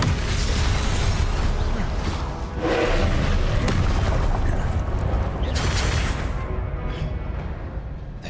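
A Descendo spell cast in Hogwarts Legacy, a heavy sustained booming rumble with bursts and mechanical crashing, loud and dense throughout before tapering off, with no talking.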